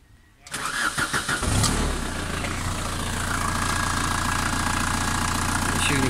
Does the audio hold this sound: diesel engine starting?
yes